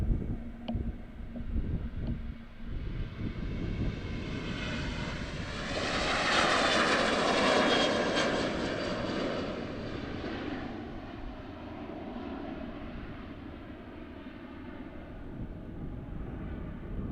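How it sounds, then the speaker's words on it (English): A KLM airliner's jet engines at Amsterdam Airport swell to a loud, broad roar that peaks midway as the aircraft passes close, then fades into a steady distant rumble with some wind buffeting. "KLM heading for Helsinki."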